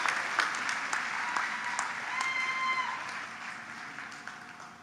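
Audience applause at a spring 2024 commencement ceremony, a dense wash of steady clapping from a large crowd that carries on evenly and fades slightly toward the end, with no voices over it.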